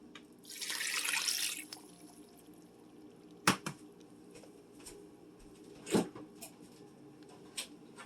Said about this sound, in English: It's going to be 2 cups of water